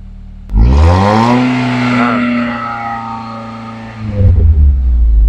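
A cold Nissan X-Trail T30 engine revs hard after a short idle, climbing to a sustained high-pitched roar, easing slightly, then bursting up again near the end, loud and close with no voices.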